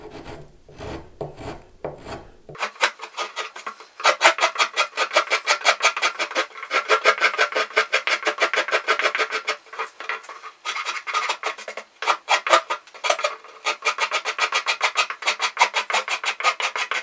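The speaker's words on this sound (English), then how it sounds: "I'm just going to do the same with the rasp at this end and just clean it up" A rasp files the wood of a Telecaster-style guitar build in quick, rhythmic back-and-forth strokes, a dry scratchy rubbing that carries on steadily with brief pauses, close up and without talking.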